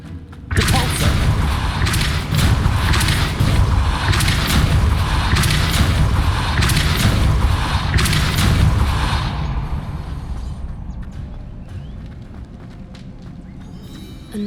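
A Depulso spell is cast in Hogwarts Legacy: a heavy booming thump followed by a sustained rumbling roar with pulsing rhythm that slowly fades over several seconds, loud and close.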